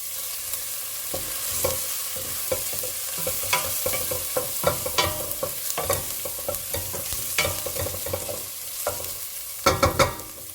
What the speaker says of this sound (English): in goes the onion. You stir fry this for just about a couple of minutes